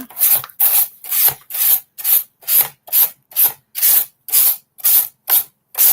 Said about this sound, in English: Let's go ahead and sand off our backboard piece here.